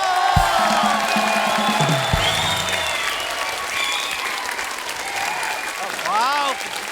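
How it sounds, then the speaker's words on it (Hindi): Loud, sustained applause from a crowd, steady throughout with some cheering and a few whistles near the end. "जोरदार तालियां"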